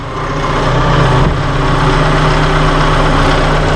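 Tractor engine idling steadily at low speed while its loader hydraulics raise the machine, a continuous low hum with a strong even drone that holds level throughout, close and fairly loud with no talking.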